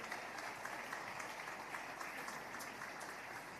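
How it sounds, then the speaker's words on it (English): A church congregation applauds steadily, a dense, even wash of many hands clapping at moderate level throughout with no distinct voices standing out. "A round of applause, please. Let's keep clapping."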